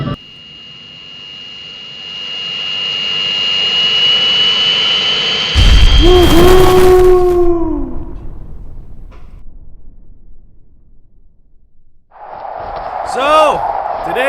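Loud jet engine roar from a burning airplane sound effect, a steady high whine that swells, then a heavy crash with descending tones, a brief lull, and another burst of noisy rumble near the end.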